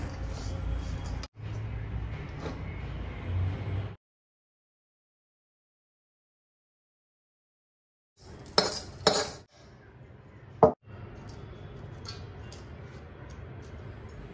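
A moong dal ladoo mixture is roasted in a pan and then moved to a plate: a metal spoon scrapes and stirs in the pan, a long silent pause follows, then sharp clinks and clatters as the mixture is transferred.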